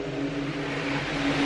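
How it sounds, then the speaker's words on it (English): A car passing overhead across a drain, rumbling down into a dark tunnel chamber, giving a steady, hollow low drone with a faint tonal hum that swells slightly toward the end, with no voices. "That's a car overhead"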